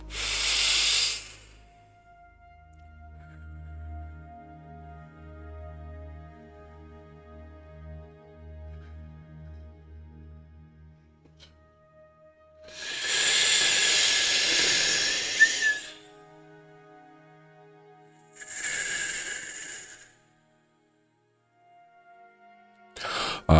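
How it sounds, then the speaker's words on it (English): Slow, deliberate breaths drawn in and pushed out through the mouth during a qigong-style guided meditation, heard as a few long airy hisses close to the microphone, separated by quiet pauses over a soft low hum. "I'm sorry for breathing through my mouth."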